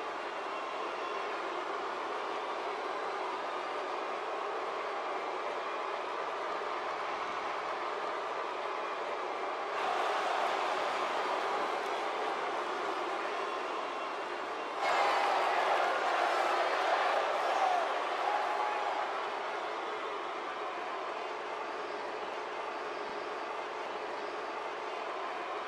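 A large, steady crowd roar fills a Las Vegas wrestling arena during a WWE Money in the Bank women's match, a dense wash of cheering that swells louder twice, distant and continuous with no clear voices standing out.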